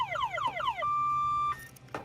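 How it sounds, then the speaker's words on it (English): Car alarm on a 1966 Ford Mustang blaring loudly and close: rapid repeating falling chirps, then a long sustained steady tone that cuts off, followed by a brief burst near the end. "Your alarm is sounding on your vehicle."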